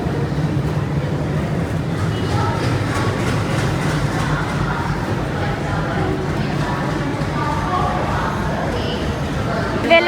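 Pune to Shirdi train, the 11409 to Sainagar Shirdi, standing with empty general coaches at Pune station: a steady loud rumble of rail noise and platform bustle with voices throughout.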